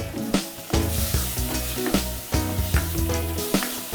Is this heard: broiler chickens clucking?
no